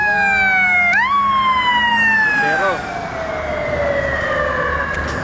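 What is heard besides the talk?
emergency vehicle siren, fire emergency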